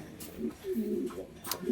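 Pigeons coo softly in short low murmurs that repeat irregularly. Quiet background noise sits underneath, and a brief higher sound breaks in.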